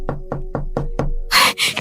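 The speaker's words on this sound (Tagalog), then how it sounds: "Sana si Arvin na yung kumakatok" Five evenly spaced knocks on a door, firm and close, followed by a brief burst of rustling noise.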